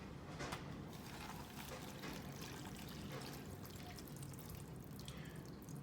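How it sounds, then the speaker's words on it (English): Water poured from a kettle into an instant chicken-flavor ramen cup up to the fill line, a steady close trickling pour that runs the whole time with no talking. "I'll fill the water up to the line."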